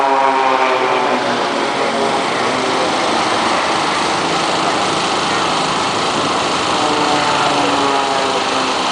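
Propeller aerobatic aircraft of the Blades display team perform twinkle rolls at an RAF Benson families day air display, a loud steady high-pitched engine drone with the slow wavering pitch of close passing planes and no talk.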